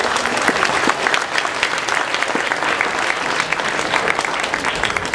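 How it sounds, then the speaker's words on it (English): Audience applause at an anime convention fashion show honoring cosplayers dressed as Liliths, a dense, steady wash of many hands clapping from a large crowd, filling the room at even loudness throughout. "one more round of applause for all the Liliths."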